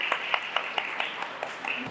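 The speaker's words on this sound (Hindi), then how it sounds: "हम आपकी भरपूर तालियों में उनको वेलकम करते हैं" An audience claps in a hall to welcome a speaker, giving a steady, moderate patter of many hands with a few sharper claps standing out and a voice faintly underneath.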